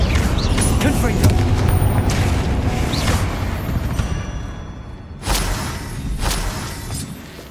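Repeated Confringo blasting curse explosions in a Harry Potter video game, deep booms with shattering debris, fading mid-clip then returning with two fresh blasts; a voice calls out over the fight.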